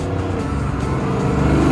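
A Chevrolet Impala at a car cruise rumbles steadily past up close, its loud engine drone holding and building slightly over a brief moment.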